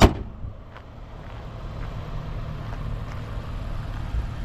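A 2016 Lexus IS 350 AWD idles smoothly at close range, a steady low rumble after a brief opening thump, with faint ticks on top and no talking.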